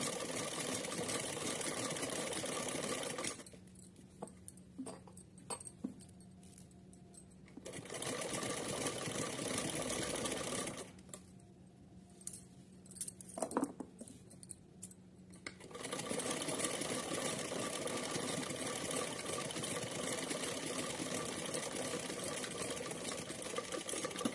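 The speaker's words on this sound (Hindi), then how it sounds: "एकदम खींचता हुआ सिलेंगे इसको।" A sewing machine stitches stretched elastic onto fabric for a summer dress, running in steady loud bursts separated by quieter pauses filled with small handling clicks.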